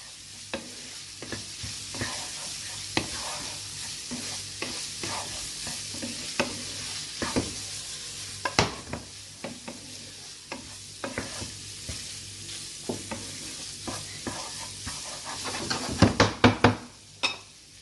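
Samosa filling frying in a pan as mixed masala is stirred in: a continuous sizzle under repeated spoon scrapes and taps against the pan, growing to a quick cluster of louder knocks at the end.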